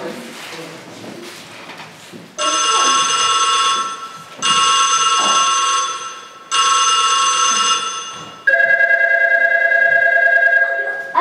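A telephone rings loudly and close at a kindergarten emergency drill, three long sustained electronic ring bursts with short gaps, then a different, higher ring tone, heard alone without talk.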